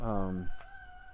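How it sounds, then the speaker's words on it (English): A rooster crows once, loud and close, its drawn-out call fading into quieter background sounds. "Gotta keep an eye out for the chickens"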